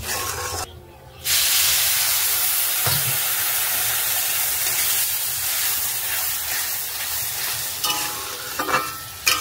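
Water is added to potatoes frying in a pan, setting off a loud, sustained hissing sizzle of steam that holds steady after a brief pause, with a few stirring scrapes near the end, close up and without speech.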